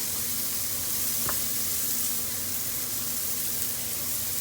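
Shallot sizzles steadily in leftover oil and butter in a pan, a continuous close frying hiss with one brief click, no talking over it.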